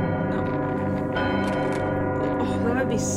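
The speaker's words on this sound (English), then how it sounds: "We went up there to ring a bell" A bell ringing in the video game Psychonauts, a loud sustained metallic ringing with lingering resonant overtones that fills the whole clip.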